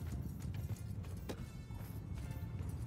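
Horse hooves galloping in the Mount & Blade II: Bannerlord battle game, a quick clattering clip-clop rhythm heard close and fairly quiet amid background battle noise, with no voices.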